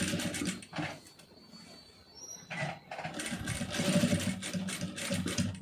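Sewing machine stitching piping trim on a neck piece with a small stitch length, a steady close whir in several runs separated by brief pauses, with no talk.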